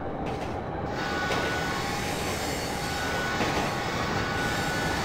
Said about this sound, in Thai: รถไฟจะออกแล้ว